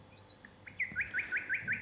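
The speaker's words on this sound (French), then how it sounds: "vous n'entendrez plus que le chant d'oiseaux" Small birds chirp in a quick series of bright, repeated tweets, faint and fairly distant, with a soft background and no talking.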